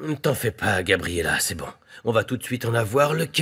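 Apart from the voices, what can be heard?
No everyday noise stands out behind the speech.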